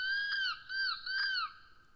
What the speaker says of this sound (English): we hear the eagle call out.